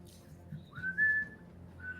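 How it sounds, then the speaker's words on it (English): A melodic, classical-style whistled tune with a few sliding, sustained notes, faint and somewhat distant from inside a cave, over a low ambient rumble. "like a very classically influenced whistling coming from the cave."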